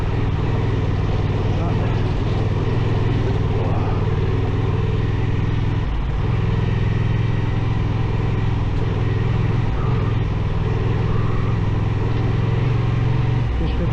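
A Honda Transalp 750 motorcycle rides off-road, its engine droning loud and steady throughout with wind buffeting, a brief dip in revs midway, and a rider's voice speaking over it at times.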